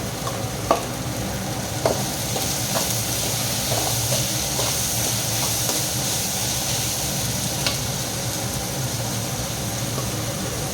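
Onions and tomato fry in a pan for a carrot and beans poriyal, giving a steady close sizzle throughout, with scattered scraping knocks as a spoon stirs; no one speaks.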